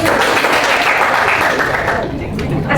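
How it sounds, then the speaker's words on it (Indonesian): Pupils in a classroom clap together, a dense, steady burst of applause that holds fairly loud and close before thinning slightly near the end, with some voices mixed in. "Beri tepuk tangan untuk kalian."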